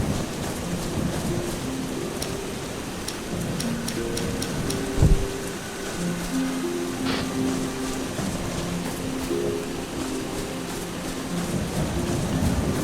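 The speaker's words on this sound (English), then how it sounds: "It pretty much rains every night here in Misfell." Steady rain falls at night in the town of Misfell in the role-playing game Eschalon: Book II, a constant broadband hiss with low rumbling tones and faint musical notes underneath, with no voices.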